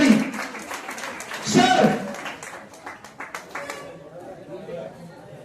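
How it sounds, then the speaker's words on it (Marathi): Applause rises from the audience for director Gopi Randhare at the closing and prize-giving ceremony of the fifth drama convention, with a dense burst of clapping briefly swelling over crowd chatter and an announcer's voice. "जोरदार टाळ्यांचा कडकडाट गोपी रंधारे सरांसाठी"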